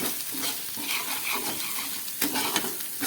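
Ground spices including Kashmiri chili powder, turmeric and cumin frying in oil for a home paneer curry, a dense close sizzle with scraping stirring strokes throughout.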